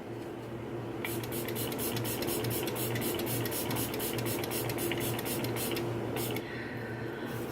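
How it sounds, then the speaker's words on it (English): Kat Von D Lock-It makeup setting spray hisses in rapid repeated pumps, close and steady for several seconds over a faint background hum, then stops. "now I'm going to use some setting spray to set this all."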